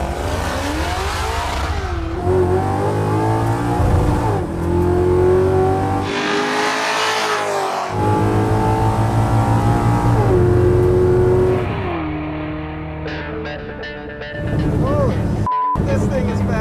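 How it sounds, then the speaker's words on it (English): A Camaro with a swapped-in LS V8 engine accelerates hard down a track through repeated gear shifts, rising and falling revs, loud and near, with a voice briefly heard toward the end. "this is a first run in the Crusher Camaro with a new LS engine"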